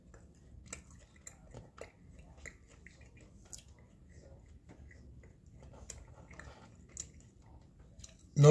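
Arby's fries being chewed close to the mouth: soft, irregular crunching and mouth sounds, faint and quiet throughout, with a brief louder noise at the very end.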